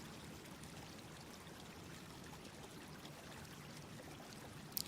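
Water streams and pours steadily in a Minecraft GregTech modpack game world, a continuous even rushing flow at moderate level with no breaks and no talk, ending in a tiny click.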